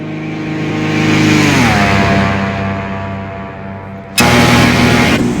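A Cirrus SR22 in the X-Plane flight simulator makes a loud flyby, its engine drone rising and then falling in pitch as it passes, with a second loud engine surge near the end.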